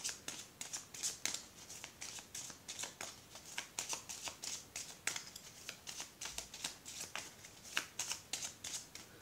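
A deck of cards is shuffled repeatedly for a card reading, giving rapid rhythmic riffling bursts that repeat steadily, close and fairly quiet, with no voices.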